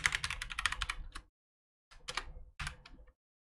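Quick bursts of typing on a computer keyboard, a rapid run of close, crisp key clicks followed by two shorter clusters separated by silence, with no talking.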